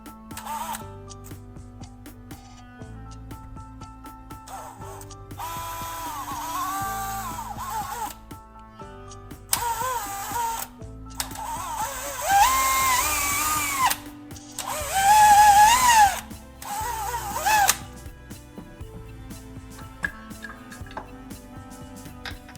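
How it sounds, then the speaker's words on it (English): A power drill boring a hole into the other end of a cylindrical wooden rod, with a steady motor hum punctuated by repeated loud whining drilling bursts of several seconds each, close and alone without speech. "Then, I'll flip to the other side and drill a similar hole."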